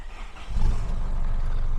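An Isuzu D-Max 2.5 X-Series double-cab pickup with an aftermarket exhaust tip starts up, then settles into a steady, deep, loud engine rumble.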